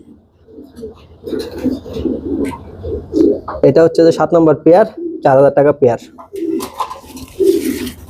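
Lahori and Sirazi pigeons kept for sale coo softly in the background while someone talks steadily close by, the birds' murmuring calls rising between his words.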